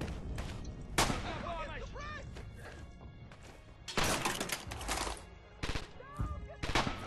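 Gunfire in the World War II shooter Red Orchestra 2, set at Stalingrad: repeated sharp cracks and rattling bursts, some close and loud, others farther off, in an irregular battle din, with a person speaking over them.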